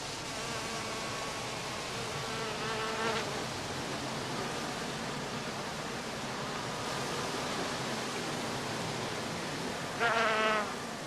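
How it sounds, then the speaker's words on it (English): Honeybees foraging among blooming heather (Calluna vulgaris) make a steady, dense buzzing hum throughout, with individual bees flying close past the microphone briefly around the third and tenth seconds. "the bees now find plenty of pollen and nectar in the blossoms of Calluna vulgaris"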